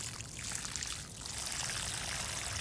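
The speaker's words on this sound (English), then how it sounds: "fill up the hole with water" Water pours steadily into a planting hole dug for a tomato seedling in a container garden, making a continuous soft splashing gush that swells slightly partway through.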